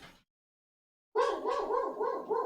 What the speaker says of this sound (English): Because Crichton's barking, so that means that Amazon delivery driver is here.